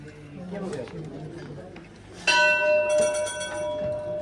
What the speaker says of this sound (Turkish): Duyduğunuz zilin sesini